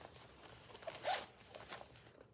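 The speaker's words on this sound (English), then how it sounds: "Ooh, and it has a zipper." A zipper on a book-themed tote bag is pulled in a short, quick rasping run, close and soft, with a slightly louder burst in the middle and no talking.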